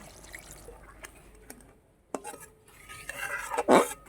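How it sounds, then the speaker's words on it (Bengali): Water is poured into a pan of yogurt-based Bengali doi katla fish curry, with soft clinks of utensils and stirring before a short, loud splashing pour near the end, close by and without talk. "এবার আমি জল দিয়ে দিচ্ছি"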